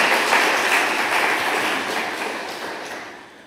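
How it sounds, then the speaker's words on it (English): Audience applause at a conference talk on quantified self, a broad wash of many hands clapping that stays fairly loud and slowly fades over a few seconds, with no voices on top. "Applause."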